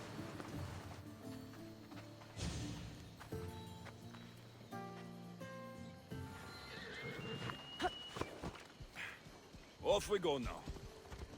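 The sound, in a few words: horse riding hooves in Assassin's Creed Odyssey video game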